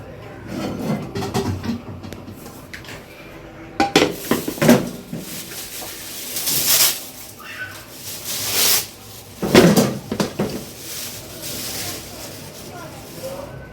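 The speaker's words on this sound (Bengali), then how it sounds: "এই ফ্রাই প্যানটা ইলেকট্রিক চুলার উপর রাখো।" A frying pan and dishes are handled and set down on an electric stove in a home kitchen, giving several clattering knocks and clinks at irregular intervals, fairly close, with cupboard-like bumps and scraping between them.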